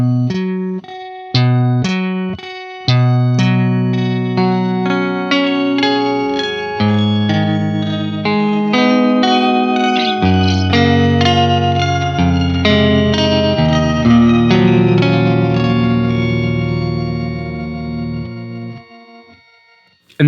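An Old Blood Noise Endeavors Excess V2 effects pedal with its time control turned up, playing a sequence of loud sustained tones that pile into dense, repeating modulated echoes and then trail off in a long fading tail.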